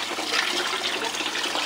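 Water running and pouring straight off the edge of a homemade miller table during its first test, a close, steady rushing splash that holds constant without pause, no speech.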